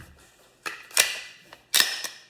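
A Glock 48 pistol gives a few sharp metallic clacks close up as its slide is worked and locks back on an empty magazine, with two louder snaps among quieter clicks.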